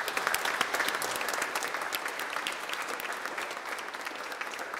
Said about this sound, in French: on peut s'applaudir tous